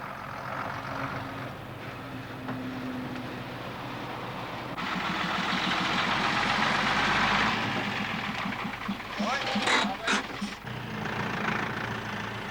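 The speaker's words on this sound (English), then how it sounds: "today they've brought a power van to supply their own electricity" A power van's generator engine runs at a remote part of a motor racing circuit, a steady close rumbling hum that swells louder midway, with a few brief clunks near the end.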